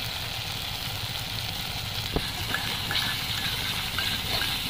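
Poppy seed and cashew paste sizzling in a pan with well-fried spices for a village-style green jackfruit curry, a steady close frying hiss with a few brief pops and no talking.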